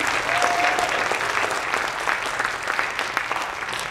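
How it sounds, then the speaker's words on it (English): Sustained, even applause from an audience at a National Art Honor Society ceremony, honoring teacher supervisors, many hands clapping together at close range. "Everyone, please give a round of applause for Ms."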